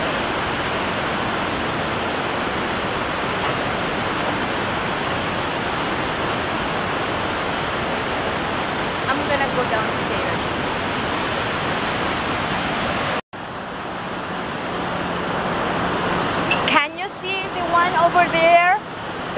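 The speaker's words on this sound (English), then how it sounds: "This is the Niagara Falls." Steady, loud roar of Niagara Falls in New York, a dense broadband rush of falling water that runs unbroken, dips briefly near the end, then returns with faint voices and other sounds nearby.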